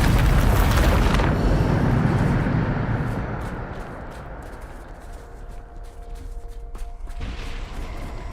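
A Bombarda blasting spell from Hogwarts Legacy detonates in a loud, rumbling explosion that fades over several seconds into crackling debris and a quieter lingering tail.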